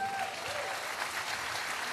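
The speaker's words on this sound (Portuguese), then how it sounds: "gente, aplauda o Senhor por ele." Congregation applauding in a church service at a wedding, a steady, full crowd clapping sound that holds evenly throughout, with a faint voice briefly audible beneath it.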